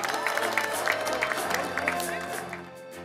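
Audience at a beauty contest shouting and clapping, a lively crowd din with scattered applause under a voice speaking over it, steady and fairly close.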